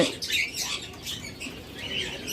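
Caged lovebirds and budgerigars for sale give a steady scatter of high chirps and tweets, several overlapping calls across the whole stretch, with faint rustling underneath.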